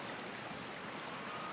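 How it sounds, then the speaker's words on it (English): Steady flowing river water, a continuous broadband rush heard alone at a fairly faint, even level with no voices. "until the river fades away."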